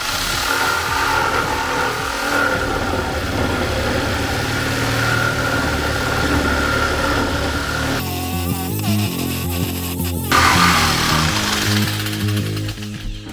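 A corded jigsaw without pendulum action cutting through a thick wooden board about 50 mm deep, a loud, harsh, buzzing reciprocating drone that strains and changes pitch partway through.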